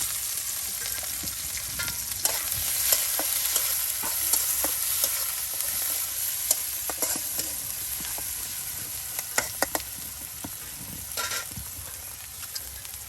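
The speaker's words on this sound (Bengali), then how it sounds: "গরম লড়াতে তেল দিয়ে দেওয়া হলো। আর এখন দেওয়া হচ্ছে পেঁয়াজ কুচি," Chopped onion and chili sizzle in hot oil in a wok, a steady close frying hiss with scattered crackles and stirring clicks throughout, no voices.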